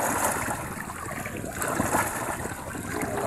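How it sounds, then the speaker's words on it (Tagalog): Strong river current rushing past: a continuous, loud broadband roar of flowing water, steady throughout with no pauses. "Lakas ng agos sa bason"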